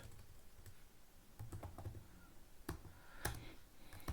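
Typing on a computer keyboard while entering CSS code: soft, irregular key clicks run throughout, with a few sharper taps, faint and close.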